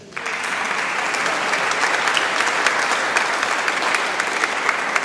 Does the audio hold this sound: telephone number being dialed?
no